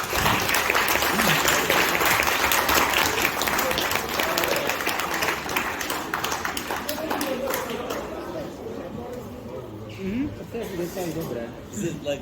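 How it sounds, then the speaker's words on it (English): At the finals of a physics tournament, the audience claps after the scores are read, loud clapping that gradually thins and fades, with voices talking quietly underneath toward the end. "Big applause, please."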